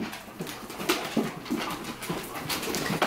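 A dog whimpers near its kennel, giving a string of short, soft whines and yelps at close range.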